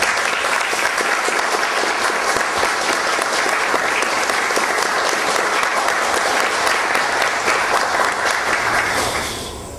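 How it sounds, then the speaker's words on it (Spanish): An audience at a citizen security committee ceremony in Miraflores claps in sustained, loud, dense applause that holds steady for several seconds before tapering off at the end. "Las palmas para ella."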